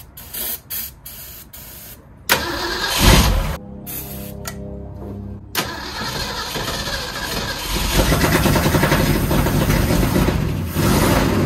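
An abandoned Meteor car left sitting for over 23 years cranks in a few short bursts, catches with a loud surge and settles into a rough, steady idle that grows slightly louder toward the end.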